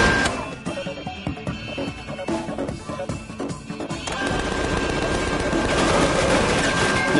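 Rapid bursts of gunfire in the video game Tales from the Borderlands, rattling in quick volleys before giving way to a denser, sustained clatter.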